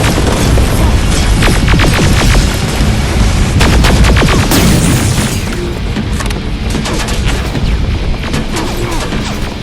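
Grenade blasts and gunfire in the shooter game Terminator: Resistance, loud and dense, with booming explosions and rapid cracking shots packed throughout, a brief heavier burst partway through before the barrage thins slightly.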